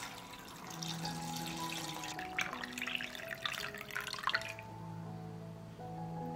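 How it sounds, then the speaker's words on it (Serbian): Warm water pours from a tap or jug into a cooking pot holding glass jars set on a cloth, a steady running and trickling splash with no voices. "U šerpu sipam toplu vodu do visine poklopca."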